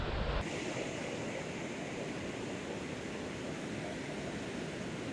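Fast-flowing river water rushes in a steady, loud roar on a chub, perch and pike fishing spot, with no talk over it.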